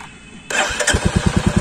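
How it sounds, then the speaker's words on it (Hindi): A motorcycle started with the kill switch cranks briefly, then fires into a loud, close idle with a regular thumping beat. "इंजन मतलब बाइक स्टार्ट हो गया"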